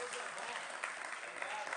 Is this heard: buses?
no